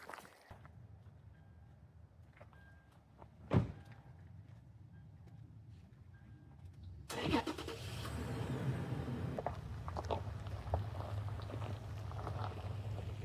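A car engine starts on a Pacific coast road trip in Forks, Washington: a thud, then a burst of cranking as the motor catches and settles into a steady rumbling idle, fairly close.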